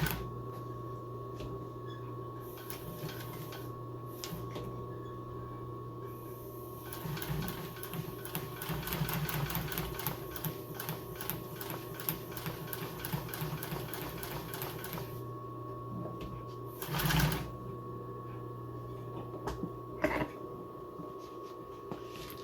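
An industrial sewing machine runs stitching lines in upholstery fabric: bursts of fast, steady mechanical clatter with pauses between runs and a constant motor hum underneath, close and fairly quiet, with no talking.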